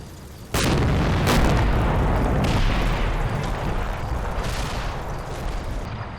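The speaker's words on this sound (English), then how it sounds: "the other tank platoon is giving them covering fire and trying to keep the infantry down as best they can by firing indiscriminately at the forest" Tank platoon firing covering fire into a forest in a WWII strategy game: a sudden heavy cannon blast, then repeated booming shots and sustained rumbling gunfire with debris crackle, loud and continuous.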